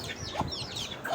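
A hen in a small backyard mini zoo clucks softly while eating, giving a couple of brief, quiet clucks over faint background noise.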